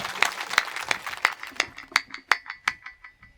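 Applause at a Hindi kavi sammelan poetry gathering, with an audience clapping in a loose rhythm of separate, fairly sharp claps that gradually thin out and fade over a few seconds.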